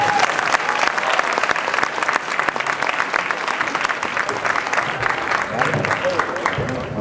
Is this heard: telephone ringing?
no